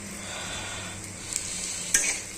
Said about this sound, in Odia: ପିଆଜ ନାଲି ହେବା ପର୍ଯ୍ୟନ୍ତ ତାକୁ ଆମେ ଭାଜିବା।